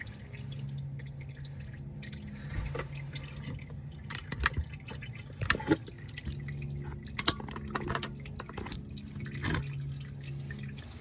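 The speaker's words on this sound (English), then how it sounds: "so we have the oil spinning now. Or dripping, as I should say." Used engine oil dripping from a car's drain during an oil change, a quiet irregular patter of drops with a few louder splashes against a faint background hum.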